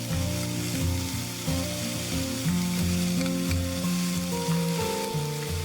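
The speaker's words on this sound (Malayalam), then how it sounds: "ഇനി നമുക്ക് ഇതിലേക്ക് നമ്മൾ അരച്ചെടുത്ത് വെച്ചിരിക്കുന്ന, നല്ല പേസ്റ്റാക്കി വെച്ചിരിക്കുന്ന ആ വറുത്ത തേങ്ങയും കൂടെ ചേർത്ത് കൊടുക്കാം." Roasted coconut paste gets stirred into cooked bitter gourd curry in a pan, a steady close sizzle and frying hiss with a faint background hum running underneath, with no voices.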